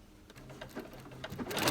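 Sewing machine stitching quilt fabric along a crease for a log cabin heart block, a quiet rapid mechanical whirr of needle strokes building slightly in loudness.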